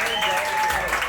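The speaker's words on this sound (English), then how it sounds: "Give yourselves a round of applause" A brief burst of audience clapping at an outdoor comedy set in the rain, heard under a speaking voice.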